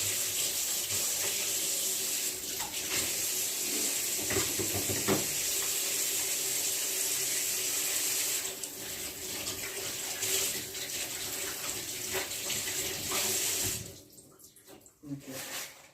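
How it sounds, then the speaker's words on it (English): A tap runs steadily as hands are washed underneath, giving a continuous close hiss of water that thins and stops near the end, with no talk over it. "I wash my hands."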